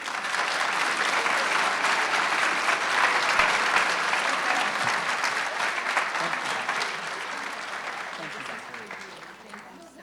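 Sustained applause from a large audience at a fall graduate recognition ceremony, dense and steady clapping that gradually thins and fades toward the end, with faint voices in the crowd.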